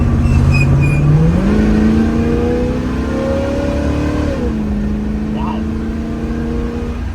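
A restored 1965 Ford Mustang with a 302 V8 accelerates on the road, its loud engine note climbing steadily in pitch, briefly levelling, then dropping back as it settles into a steady cruise.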